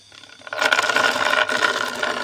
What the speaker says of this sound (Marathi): अशा प्रकारे आता आपली मोटर चालू झाली आता मी तुम्हाला होल पाडून दाखवतो